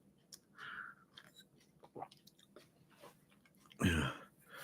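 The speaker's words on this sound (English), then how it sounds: "let's have a good old slurp of this now" A person takes one loud, close slurp of a drink near the end, after a few seconds of quiet small mouth and handling noises.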